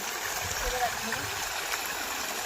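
Floodwater after a cloudburst rushes steadily across a submerged farm field, a continuous broadband wash and gurgle close by with no talking over it.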